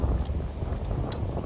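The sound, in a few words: strong wind on a golf course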